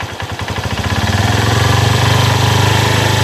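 A Honda CB Verza motorcycle engine with hesitating throttle runs loud and close, first chugging in uneven pulses and then settling into a steady, rapid, vibrating rumble.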